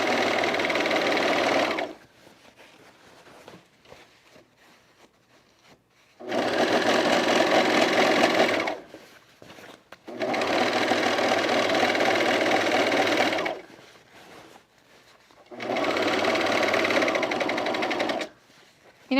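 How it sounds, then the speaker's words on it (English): Sewing machine running in three long bursts, top stitching the side seams of Creston jean shorts, with quiet pauses between runs; loud, steady whirring hum, no talking. "I'm going to top stitch the sides."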